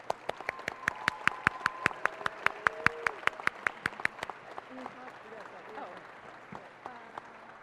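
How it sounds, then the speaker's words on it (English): An audience at a city public safety awards ceremony claps for four volunteers, with distinct close claps in a steady rhythm for about four seconds, then thinning out as voices talk underneath. "I'd like you to give a round of applause to these 4 wonderful volunteers."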